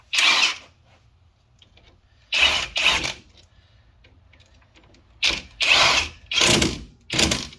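A power tool tightens nuts on a Chevy Cobalt CV axle in loud, close whirring bursts, one short burst, then a double burst, then a quick series of several, with quiet gaps between.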